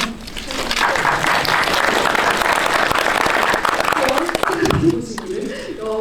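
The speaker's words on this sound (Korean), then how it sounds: "채널 개설 원하시면 한번 박수드릴까요?" An audience at a special guest-visit film screening applauds, with sustained, fairly loud clapping throughout and people talking over it before the clapping fades near the end.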